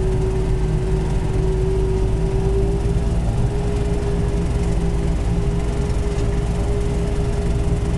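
A John Deere 3720 cab tractor of about 45 horsepower, with horizontal or vertical exhaust, pulls a bush hog mower through thick growth at about 2.5 mph, its engine droning loud and steady with a constant hum.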